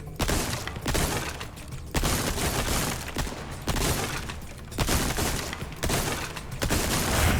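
Rapid, continuous gunfire rings out at a shooting range in the video game Resident Evil 4, loud and close, in dense bursts broken by brief gaps, with targets shattering along the way.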